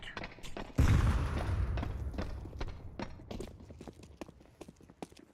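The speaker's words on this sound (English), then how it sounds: "Grenade out." A heavy grenade blast thuds near the start of a tactical shooter game round, followed by a decaying rumble and a scatter of rapid clicks and small impacts.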